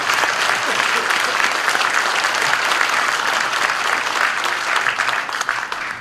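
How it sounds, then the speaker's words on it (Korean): Loud, sustained applause from a large crowd at a political party launch event in Jeonbuk, dense clapping that continues steadily and begins to thin slightly at the end. "뜨거운 박수로 응원해 주시기 바랍니다"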